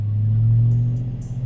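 A Procharged 6.2L GMC Denali truck engine with a cammed V8 running on a dyno, a loud low rumbling drone held steady at close range for a brief stretch without talk.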